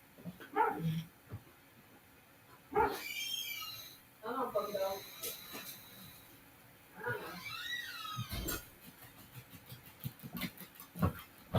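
A dog's vocal bursts come and go in short broken bouts, mixed with snorting and whimpering sounds, while a person talks intermittently nearby.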